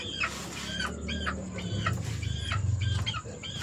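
Flores White gamefowl roosters clucking at a rooster farm, with repeated loud, close clucks and short calls in quick succession over a low rumbling background.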